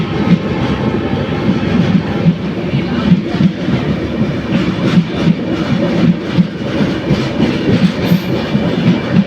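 A superfast express passenger train from Guwahati to Bengaluru rumbles steadily along the rails with a heavy low roar and rhythmic clattering of wheels, loud and continuous as if heard from inside a sleeper coach.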